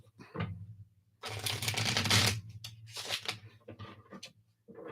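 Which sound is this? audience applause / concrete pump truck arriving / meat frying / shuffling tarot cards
shuffling tarot cards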